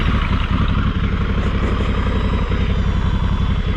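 Motorcycle engine running steadily at idle, a dense continuous low rumble with a fast regular pulse, close and loud throughout with no pauses.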